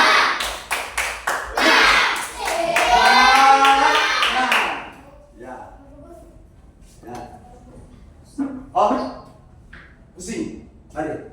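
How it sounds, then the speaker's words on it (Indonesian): Students clapping hands in a classroom during a lesson on human breathing organs: a quick burst of brisk claps, then loud voices chanting together, followed by scattered talk. "Ayo tuh, tepuk tangan semangat dulu."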